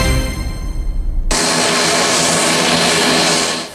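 A Philippine Air Force airplane's engine starts abruptly with a loud, steady roar and drones on continuously close by, with no voices, on arrival in Cauayan, Isabela.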